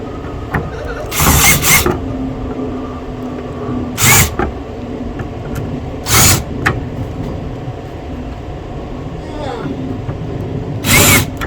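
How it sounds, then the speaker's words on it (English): Short bursts of a power drill running in reverse to clear shavings, four brief spurts spaced a few seconds apart over a steady background hum, with some talking. "So I got the drill in reverse and I'm just kind of removing the shavings here"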